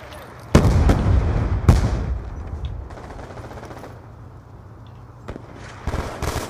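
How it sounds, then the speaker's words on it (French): Several grenade launcher explosions go off in Call of Duty Black Ops 2, with two sharp loud blasts early on, a lull of rumbling debris, then further bursts near the end. "Lance grenade multiple."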